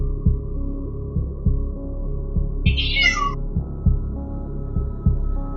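A single short meow rises over a steady low hum with a soft, regular thumping beat underneath.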